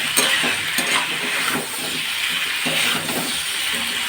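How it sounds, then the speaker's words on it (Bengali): Chilli chicken with soy sauce and tomato sauce being stirred in a hot pan, a continuous sizzle broken by repeated scraping strokes of the spoon, close up. "সয়া সস আর টমেটো সস দেওয়ার পরে আবার একটু ভালো করে নাড়াচাড়া করে নিচ্ছি।"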